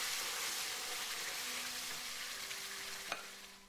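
Chili and coriander powders frying with puree in a pan, giving a steady close sizzle with faint stirring and a light clink near the end.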